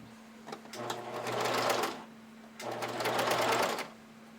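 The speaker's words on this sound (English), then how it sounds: "Just back tack at the beginning and end of your stitching line." A sewing machine runs in two bursts, stitching and back tacking a seam, its rapid mechanical whir rising for about a second each time with a steady low hum and brief pauses between, close and alone.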